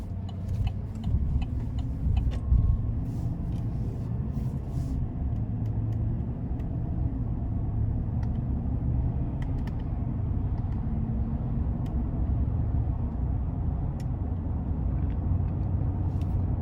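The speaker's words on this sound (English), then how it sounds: "time to go ahead and take this Silverado out on the road for a test drive" A 2021 Chevrolet Silverado 1500 LT crew cab with the 5.3 V8 and 8-speed automatic cruises on the road, giving a steady low engine and tire rumble heard from inside the cab, with faint ticking over it and no talking.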